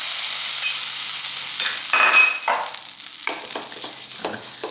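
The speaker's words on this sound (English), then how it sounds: "I'm going to add, half a tablespoon of the fat that we had set aside from the meat." Reserved beef fat hits a hot pan for a ground beef stroganoff and sizzles with a bright, steady hiss, broken by a few short scraping stirs toward the end, close up and with no one talking.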